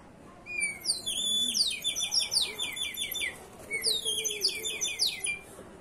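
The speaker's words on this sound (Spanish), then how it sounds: "Este es el pajarito, este se llama un llamador y es para atraer aves cerca a uno." A water-filled clay bird whistle used as a bird caller gives two close, bright bursts of warbling chirps with rapid trills and pauses, like birdsong, with faint background noise beneath and no talking.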